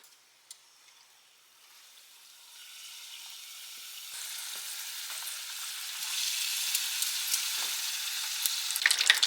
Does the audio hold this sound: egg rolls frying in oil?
yes